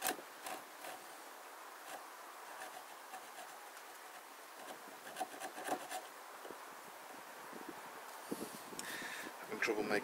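Faint, steady rasping and scraping as a groove is worked into a piece of wood for a handmade buck saw, continuous rough friction with occasional louder strokes, close by and low in level.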